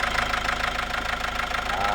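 A Toyota Grandia with a 2KD diesel engine cranks without starting after a snapped timing belt, the starter churning in a steady rapid rhythm, loud and close.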